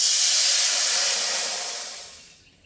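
Water poured into a karahi for making a sweet, a steady bright rushing hiss that holds even and loud, then tapers off and fades out near the end.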